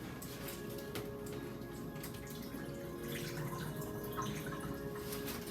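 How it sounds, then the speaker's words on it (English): Excess fat being poured off cooked BBQ ribs, a thin, faint trickle and dribble of liquid with small drips and splashes, quiet and continuous without talk. "I'm going to pour off some of the excess fat."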